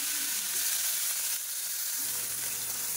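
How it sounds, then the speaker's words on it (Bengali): Bitter gourd slices frying with nigella seeds in hot oil, a steady close hiss and sizzle throughout with a faint stirring shift midway. "আজকে কালো জিরা দিয়ে উচ্ছে ভাজা হবে।"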